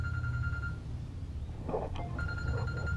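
A phone rings with an incoming call outdoors near a kayak fitted with a cheap trolling motor. Two bursts of a steady, moderately loud electronic ringtone are separated by a brief gap, over low background rumble.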